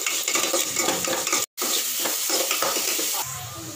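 A fish curry base sautés and is stirred in a pan, a dense loud sizzle with rapid scraping and clinking of the spoon against metal, broken once by a brief cut in the sound.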